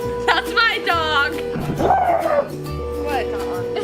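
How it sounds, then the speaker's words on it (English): A dog gives a few yips and short barks close by, mixed with people talking over a steady background hum. "That's my dog."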